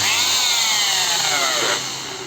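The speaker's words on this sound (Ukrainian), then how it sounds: "Як чуємо, двигун працює, ротор крутиться, а механіка стоїть на місці." The motor of a faulty Metabo KHE 24 SP rotary hammer whirs with a loud, high whine close up, rotor spinning but hammer mechanism not moving, then starts winding down near the end.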